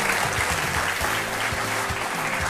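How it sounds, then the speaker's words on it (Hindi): Studio audience applause on a televised Indian courtroom-style talk show, a dense, loud, sustained burst of many hands clapping together with steady energy throughout. "रजत जी के लिए एक जोरदार तालियां होनी चाहिए।"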